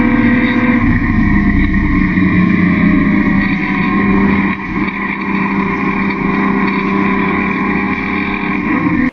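Saloon racing cars charge down the straight from a standing start on lap 1 at Phillip Island Raceway. A loud, dense engine drone holds steady throughout, close and unbroken.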